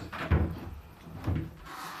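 A house door is opened and swung on its hinges, giving two soft thuds about a second apart with faint creaking and shuffling between, close by and fairly quiet, with no talk.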